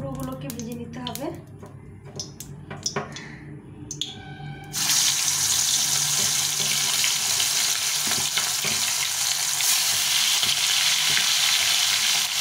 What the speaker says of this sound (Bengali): প্রথমে মুড়োগুলোকে ভেজে নিতে হবে।